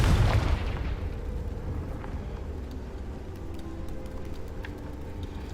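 A Confringo spell blast in the video game Hogwarts Legacy: one loud, deep boom at the start that fades into a long, rumbling tail of low noise.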